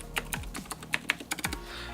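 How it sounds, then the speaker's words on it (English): Clicky Cherry MX Blue keyswitches clatter under brisk typing, a quick irregular run of sharp near clicks with a few deeper thuds from larger keys. "the switch, because of the click on MX Blues, hides... It kind of hides the stabilizer"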